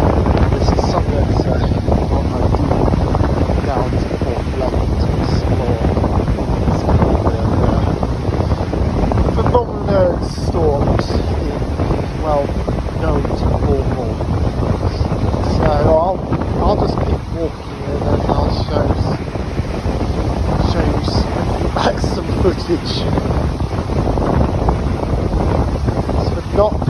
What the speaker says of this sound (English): You just see the waves just hitting the side of the harbour wall here.